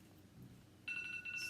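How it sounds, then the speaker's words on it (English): A phone reminder alert tone sounds suddenly and loudly, a steady electronic beep in two bursts with a brief dip between them, during a home sewing session on a custom dress form. "that's my phone telling me I need to stretch and drink some water"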